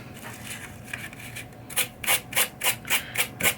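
A green scrubby pad scrubbed back and forth across a worn pinball machine shooter lane, starting as faint rubbing and then settling into a regular, close rhythm of raspy strokes, about three per second.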